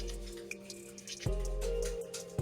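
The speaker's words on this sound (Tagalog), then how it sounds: "maghihilamos muna akong malamig na tubig" Water drips and splashes softly in short wet bursts as someone washes their face with cold water, fairly close and low in level, with no talking.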